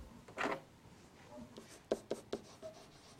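Pen strokes scratch on paper, one longer stroke early on followed by several short quick marks, close and quiet, with no voices.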